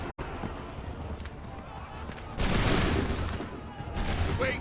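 A musket volley in Assassin's Creed III rings out as a burst of overlapping gunfire amid battlefield noise, loud and close, with a second swell of shots near the end and shouted orders around it.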